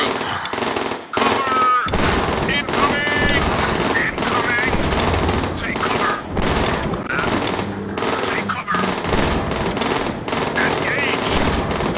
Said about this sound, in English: lighting that zombie up with, like, guns.